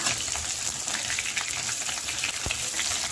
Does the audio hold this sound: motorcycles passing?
no